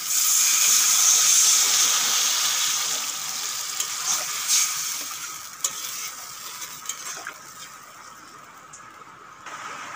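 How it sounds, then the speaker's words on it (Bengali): Water poured into a pan of pumpkin, potato and shrimp frying with salt and turmeric sets off a loud, steamy hiss and sizzle that gradually settles into a softer bubbling crackle. "এখন দিয়ে দেব পরিমাণ মতো জল"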